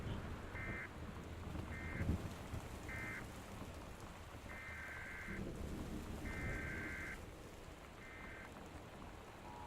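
Heavy rain and a thunderstorm in the video game Gone Home: a steady dense downpour with low rolling thunder, overlaid by a repeating electronic warning tone in short beeps and longer blasts.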